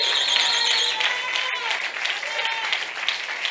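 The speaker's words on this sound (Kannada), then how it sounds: "ಜೋರಾಗಿ ಉತ್ತಮವಾದಂತ ಚಪ್ಪಾಳೆ" A church congregation at Friday prayer claps loudly and steadily throughout, with a wavering electronic tone sounding over the applause at the start.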